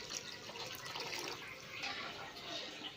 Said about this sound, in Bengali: আমি আর একটু জল দিয়ে দিচ্ছি।